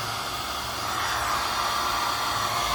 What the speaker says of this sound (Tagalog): So habang nagbo-blower siya ng init, ini-exhaust din natin